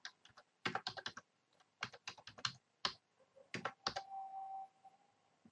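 Computer keyboard keys typed in quick bursts of close, crisp clicks with short pauses between groups, entering a Bower install command for Bootstrap at a terminal, followed by a brief faint tone.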